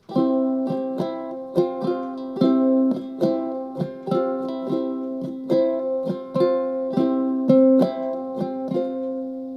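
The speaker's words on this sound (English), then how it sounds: "If I add the whole strum, it sounds like this." Acoustic guitar strummed in a steady rhythmic pattern of full chords, bright and close, with repeated down-up strokes and no voices.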